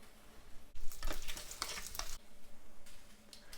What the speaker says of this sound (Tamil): இப்போ நான் ஜீரகம் ஆட் பண்ணுறேன்